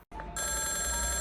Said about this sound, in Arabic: مامي التليفون بيرن.